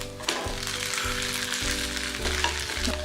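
Maggi noodle pizza sizzling gently in a pan over a low flame, a steady soft frying crackle with a few scraping stirs and light knocks, close and on its own.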